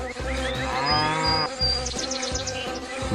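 A cartoon cow in a Bangla animated show lets out deep, drawn-out moos, one after another, with thin higher whining tones over them.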